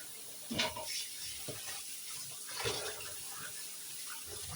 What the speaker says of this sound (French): Toujours avec l'eau froide. Hein. Je rince le citron.